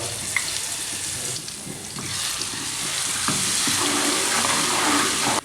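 Chopped garlic and ginger frying in hot oil for a masoor dal tadka, giving a steady, close hiss and crackle that grows slightly louder and fuller toward the end, with no talking.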